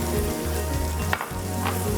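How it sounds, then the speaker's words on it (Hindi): Minced meat fries with yogurt in a pan, giving a steady, close sizzle with crackling pops and a few brief pauses, and no voices. "दही के साथ खूब भुनाई करेंगे इसकी।"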